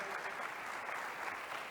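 A brief, steady burst of audience applause at a UNESCO NGO Forum session, moderately loud and continuous with no voices over it.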